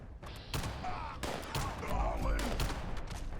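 Dynamite goes off in the video game Fallout 76, several sharp blasts and thumping bursts in quick succession over a layer of game noise.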